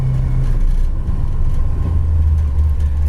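A 1963 Mercury S33 two-door hardtop's engine idles, a steady low rumble with an even pulse, close and fairly loud, with no talking.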